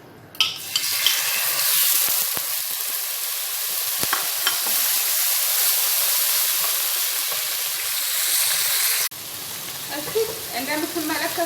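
Chicken pieces fry in olive oil in a pan for a Caesar salad, a loud continuous close sizzle with occasional sharp pops and stirring, then the frying cuts off abruptly and quieter kitchen sounds follow.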